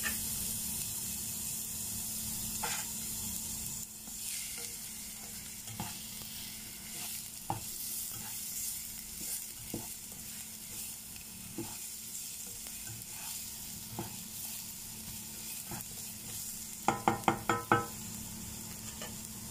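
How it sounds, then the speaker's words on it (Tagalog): Garlic sizzles steadily in a pan for spicy corned beef, with periodic scrapes and clinks of a utensil stirring, and a quick burst of metallic taps near the end. "And then I can put our garlic."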